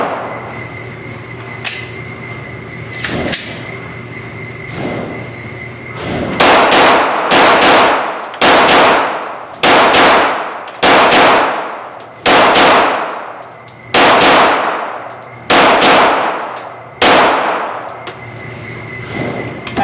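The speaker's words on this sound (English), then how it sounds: "we're going to burn through a mag here real quick" Smith & Wesson M&P9L pistol firing on a range, about ten sharp loud shots spaced roughly a second apart after a few fainter earlier pops, each with a ringing metallic decay, no talk.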